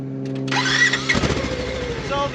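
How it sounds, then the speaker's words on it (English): Off-road vehicle, a Polaris or Nissan stuck in mud, cranking and firing up, a brief starter whine before the engine catches and settles into a steady nearby idle, with talk underneath. "All right, so go ahead and fire it up."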